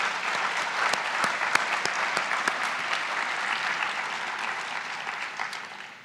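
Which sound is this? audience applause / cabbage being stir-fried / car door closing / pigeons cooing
audience applause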